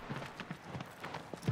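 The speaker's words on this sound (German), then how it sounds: "Und wir haben es auch dann gleich mal hier runter zum Strand geschafft auf unserem Klepper." Horse hooves clip-clop on sand as a large horse is ridden down onto the beach in Shadow of the Colossus on PS4, a quick uneven run of soft thuds under faint game ambience.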